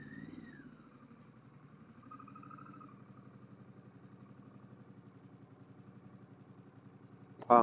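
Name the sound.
Harley-Davidson Pan America motorcycle engine and exhaust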